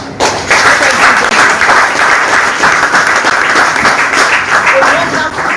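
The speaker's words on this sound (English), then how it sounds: "This North American chapter deserves our applause." Applause from an audience at an old students' donation ceremony for a technical college, a dense, loud, steady wash of many hands clapping for several seconds with no let-up.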